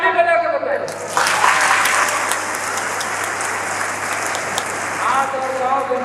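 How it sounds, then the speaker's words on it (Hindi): An audience at a college event in Saraikela breaks into sustained applause after a brief voice, many hands clapping densely and evenly for several seconds. "फिर ताली बजा के बताइए।"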